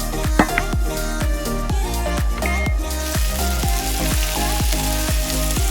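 Fish frying in a pan gives a steady, loud sizzle, broken by a regular series of sharp, ringing taps that repeat about every half second.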